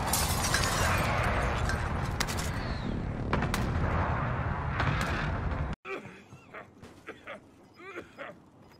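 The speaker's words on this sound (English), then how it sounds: "Airstrike, take cover!" An airstrike in Call of Duty Warzone lands as a dense, loud barrage of booming blasts that rumbles without pause for about six seconds, then cuts sharply to quieter, scattered thuds and cracks.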